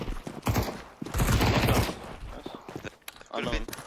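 Rapid bursts of gunfire in the Counter-Strike 2 video game, several short volleys of shots loud and close, mixed with a player talking over the action.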